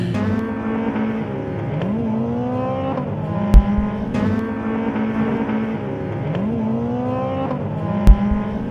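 Lotus Challenge race cars lap Aldo Scribante Raceway in Port Elizabeth, engines revving up through the gears in repeated rising sweeps, with sharp gear-change cracks and cars passing by at close range; no talking.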